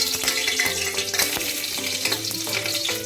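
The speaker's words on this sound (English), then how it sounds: "The ghee is hot. Now we will add all the spices." Whole spices (cardamom, pepper, cumin, cloves, star anise, bay leaves) hit hot ghee in a pan and fry with a close, loud, crackling sizzle, punctuated by sharp pops and stirring clatter.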